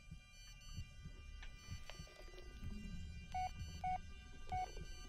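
A phone text message alert in the Blair Witch game: a few short, faint electronic beeps repeating in quick pairs near the end, over quiet low ambience.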